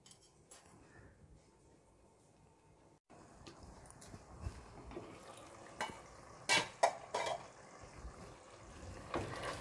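Chicken for masala biryani fries in a pot, giving a soft, close sizzle while a utensil scrapes and clatters against the pan in irregular bursts of stirring. It starts quietly and grows busier partway through.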